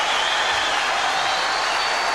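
Steady, dense applause from a large Eurovision Song Contest audience, a continuous wash of clapping that stays loud and even throughout.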